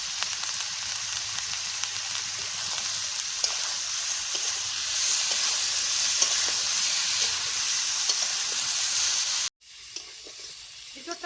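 Young jackfruit frying in oil with salt and turmeric, a continuous hissing sizzle with small crackles and stirring, cutting off abruptly near the end to a quieter, softer frying sound.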